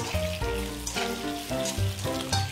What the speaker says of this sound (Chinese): 油烧热之后呢，我们把姜好的鸡丁啊放入锅中